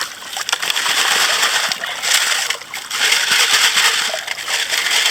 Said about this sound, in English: Give it a shake.